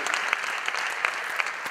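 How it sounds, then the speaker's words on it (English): Audience applause at a national real estate awards ceremony marking a 30th anniversary, a continuous wash of many hands clapping with a few sharper near claps standing out. "a round of applause, please."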